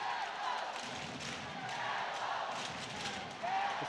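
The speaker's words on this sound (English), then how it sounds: "This Ice Arena Wales crowd responding to the shot blocking of the Devils" At Ice Arena Wales during a Cardiff Devils v Fife Flyers ice hockey game, the arena crowd lets out a broad, sustained roar in reaction to the Devils blocking shots, swelling slightly near the end.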